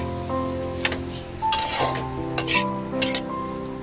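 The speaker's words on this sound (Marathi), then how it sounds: "हा भात या पद्धतीने आपण परतून घेणार आहोत।" Cooked rice with a tempering stirred and tossed in a pan, a steady soft sizzle under repeated scraping and clinking of a metal spoon against the pan, close and moderately loud, no talking.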